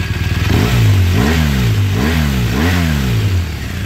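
BMW R1200RS motorcycle engine revving early in the morning, a steady idle rising into three or four sharp throttle blips with falling pitch after each, loud and close, no talking.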